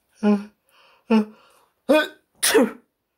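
A series of four sharp, sudden sneezes spaced about a second apart, loud and close, with brief silences between them.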